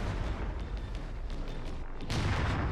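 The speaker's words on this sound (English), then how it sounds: "we're just going to use the mortar" Mortar fire in Resident Evil 9, a continuous rumbling barrage of booms with a louder burst near the end, with no voices present.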